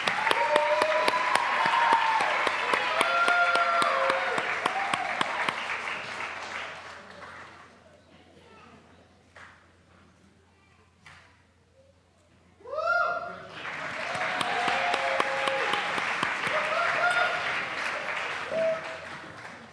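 Clapping from a crowd at a staff service-award celebration as a group poses for a photo: a loud round of applause tapers off into near quiet, then a voice speaks briefly before a second burst of applause swells up again.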